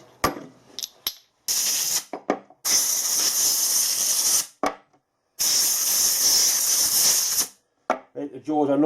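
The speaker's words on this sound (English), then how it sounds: "Squirt the WD-40 won't do any harm neither." WD-40 sprays from an aerosol can in several sharp hissing bursts, some short and some lasting a couple of seconds, close up, with brief clicks and handling sounds between them and a voice at the end.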